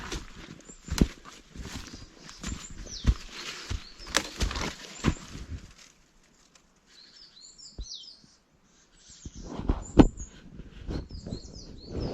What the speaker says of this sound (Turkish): Şu kuşların güzel ötüşüne